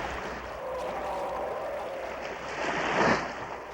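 Sea waves wash steadily over small rocks where seals haul out off the West Sea islands, a continuous broadband surge with a louder swell breaking near the end.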